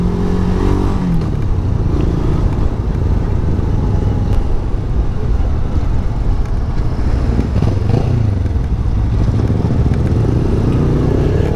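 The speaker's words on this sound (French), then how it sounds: "Les petites motos." Small motorcycles riding past on a road, their engines revving and buzzing loudly close by, rising and falling as the bikes pass, with no voices heard.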